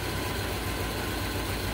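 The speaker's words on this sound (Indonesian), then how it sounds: "dengarkan lagi untuk suara mesinnya nih ya. Suara knalpot, maaf." Toyota car engine idling with its exhaust note, a steady, loud, close rumble with a slightly uneven beat, suited to a misfiring engine with a faulty spark plug cable.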